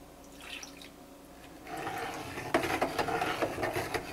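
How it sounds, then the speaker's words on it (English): Hot lye liquid at about 180 °F pours into warm soap oils with soy wax and oatmeal stout, rising from faint dribbling into a louder, continuous splashing pour partway through. "Just going to pour that in."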